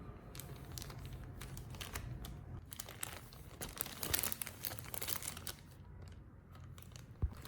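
Zip-top plastic bags crinkle and rustle as they are handled at close range, with irregular crackling bursts and a brief sharp snap near the end, with no voices.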